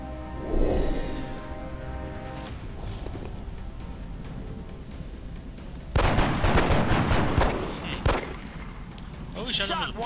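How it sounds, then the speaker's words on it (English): Gunfire in an XCOM: Enemy Within battle, sharp bursts of shots and impacts in the second half after a quieter stretch of game ambience and music, fairly loud. "Oh, we shot him with a pistol."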